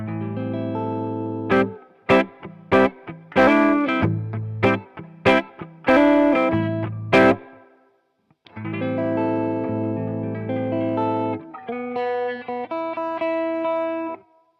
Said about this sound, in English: So it's quite a subtle, vintagey fuzz.